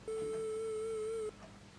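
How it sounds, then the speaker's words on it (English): A FamiSynth 8-bit synthesizer playing its triangle wave, one steady hollow, soft-edged tone sustained for just over a second before stopping abruptly, followed by quiet background hiss. "we have a triangle wave,"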